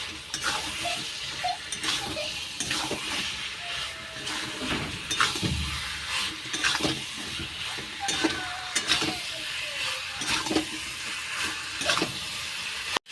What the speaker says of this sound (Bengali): এইবার ভালো করে আলুগুলো দিয়ে কষাবো।